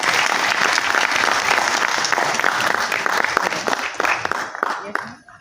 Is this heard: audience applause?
yes